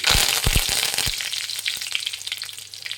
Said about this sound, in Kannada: ಸಾಸಿವೆ ಜೀರಿಗೆ ಹಾಕ್ತಾಯಿದ್ದೀನಿ ಸಾಸಿವೆ ಒಂದು ಸ್ವಲ್ಪ ಸಿಡಿಲಿ